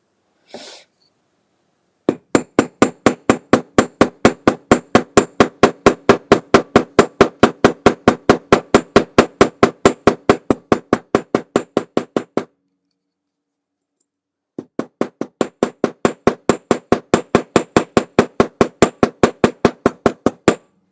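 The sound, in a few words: hammering rivets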